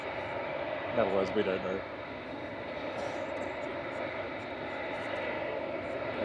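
An aircraft taxis at Manchester Airport, its engines producing a steady, broad rumble that persists throughout, with people talking over it near the start.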